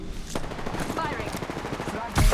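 Rapid automatic gunfire from an Apex Legends match on PS4, a dense rattling stream of shots at steady volume, with a louder burst near the end and game effects mixed in.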